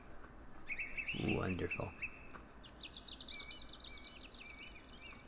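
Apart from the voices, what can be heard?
birds chirping in video game Farming Simulator 15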